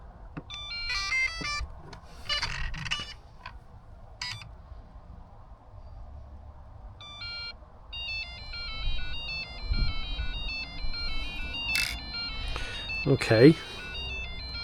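Losi Pro Moto MX RC motorcycle giving a run of electronic power-up beeps, short repeated tones in steady patterns that carry on for several seconds, close by, with a brief spoken word and handling noise around them.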